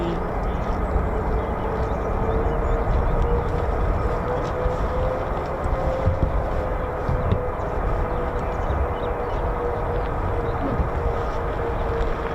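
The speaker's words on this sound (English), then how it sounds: "Now, down the end we have lots of F-35s now. They've just taxied down there now" F-35 fighter jets taxi at RAF Lakenheath, a steady distant roar with a faint whining tone running through it, continuous and unchanging.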